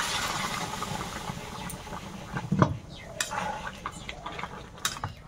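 Hot water is tipped into a pot of cooking potato and vegetable-stalk curry, giving a short, sharp sizzling splash midway, then faint bubbling and a few light clinks in a quiet kitchen.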